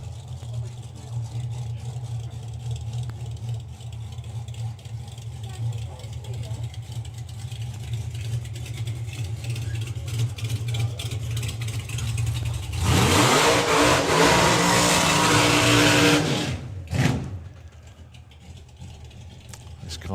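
A drag racing car called the Void Reaper idles with a deep, steady rumble at a nostalgia drag racing event, then bursts into a loud, close revving roar for several seconds before dropping back.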